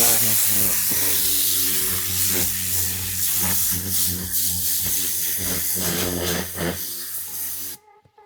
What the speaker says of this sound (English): I hope you enjoyed that quick demo of the Air Blaster Mini from the Rag Company